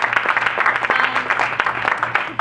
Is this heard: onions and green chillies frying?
no